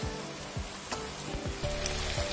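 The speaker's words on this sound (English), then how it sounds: "Add a teaspoon each of ginger and garlic and saute this on medium heat." Sliced onions with a teaspoon each of ginger and garlic sauteing in a pan over medium heat, giving a steady close sizzle broken by a few scraping stirs, with no talking.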